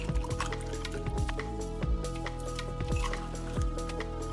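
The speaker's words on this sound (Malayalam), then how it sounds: "ഇതിനി സെർവിങ് ഗ്ലാസ്സിലേക്കാക്കി സെർവ് ചെയ്യാം" Watermelon juice pours into a serving glass in a steady liquid stream, with gurgling, dripping splashes and the faint clink of glass or ice, close up and without talk.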